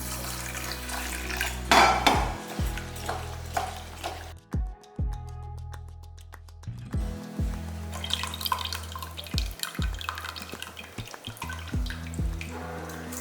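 Moong dal being rinsed in water in a metal kitchen vessel: close splashing, trickling and dripping mixed with light clinks and knocks of the pot, with no talking.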